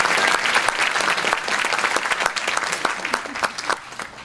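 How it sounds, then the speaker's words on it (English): An audience at a film festival's opening screening breaks into lively, dense applause, with crisp individual claps standing out from the crowd for around four seconds as it gradually thins. "let's clap for the applause"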